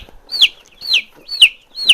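Young chicks from a Cornish game hen cross cluck and cheep close by in a quick, repeated rhythm, four sharp calls about half a second apart over a quiet background.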